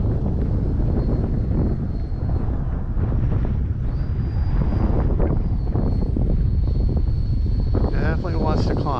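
FMS Futura V3 RC model jet flying in windy conditions, a continuous rushing whine with gusty wind buffeting on the microphone and a rising pitch sweep near the end, while someone talks over it.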